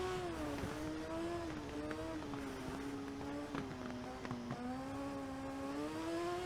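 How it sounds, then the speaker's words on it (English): An Isle of Man TT racing sidecar's engine drones and revs, its pitch rising and dipping in waves with sharp bursts between, a sustained mechanical whine heard from on board through the Glen Helen section. "just revving the engine"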